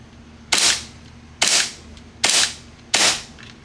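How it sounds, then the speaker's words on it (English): An airsoft pistol fires four sharp shots at a steady pace, each crack followed by the slide cycling, close and loud over a faint hum. "we're going to shoot sideways so you guys at least can see the slide moving"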